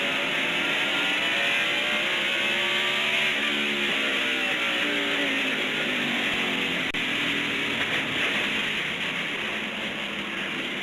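A NASCAR Cup race car runs on the track at Martinsville in 2000. Its engine roars loudly and continuously for about eleven seconds, the pitch sweeping up and down as it drives, with no commentary over it.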